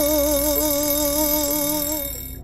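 An alarm clock in a spoken story rings with a steady, wavering metallic tone, loud and continuous, then fades and cuts off near the end.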